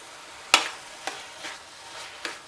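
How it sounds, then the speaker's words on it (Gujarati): A spoon stirs a thickening coconut barfi (topra pak) mixture in a pan. A few soft scraping strokes come at an uneven pace and are heard up close, with no talking. "આપણને એવું લાગે કે ચાસણી જેવું થઈ ગયું છે ત્યાં સુધી આપણે ચલાવવાનું"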